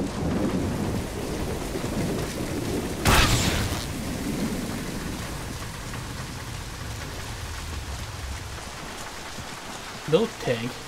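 Steady pouring rain fills a stormy scene in the video game The Bureau: XCOM Declassified, with a loud thunder crack near three seconds and brief voices or game sounds near the end.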